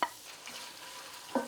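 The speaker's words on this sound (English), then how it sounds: "I'll add the grated onions now." Grated onions fry in a pan with ginger and garlic, giving a faint steady sizzle with two sharp stirring scrapes, one at the start and one near the end.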